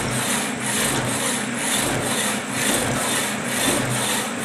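A Marvel No. 2 draw cut saw running steadily, a loud continuous rasping cutting noise with a regular back-and-forth pulse of about one stroke per second, close up and without speech.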